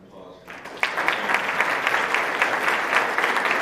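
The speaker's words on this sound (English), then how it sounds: "join me in another round of applause" An audience at a public health lecture breaks into applause, starting with a few scattered claps and quickly swelling into dense, sustained clapping that holds steady to the end.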